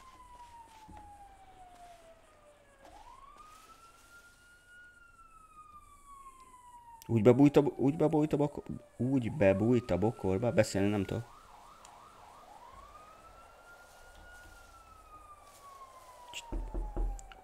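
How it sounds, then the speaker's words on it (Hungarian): A police siren wails outside with long rising and falling sweeps that repeat at moderate distance, while a person talks loudly over part of it. "Várjatok, mert megy a sziréna, várjatok."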